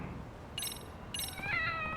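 Two short bright meows from video-game cats sound in succession, the second drawn out with a falling tone, over a steady low background hum.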